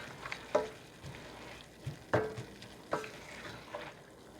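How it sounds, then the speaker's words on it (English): Ground beef cooks in a pan with onion and garlic, giving a low, steady sizzle broken by a few sharp scraping stirs, close by and moderately quiet with no voices. "So while the hamburger and the onions and garlic are cooking there"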